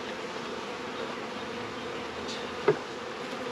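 Honeybees buzz steadily in an open hive while a frame is worked loose, a dense continuous drone close by, with one brief louder knock near the end.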